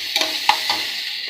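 Ginger garlic paste frying with salt, turmeric and cumin powder in a pan, a close steady sizzle with a few sharp utensil clicks as it is stirred.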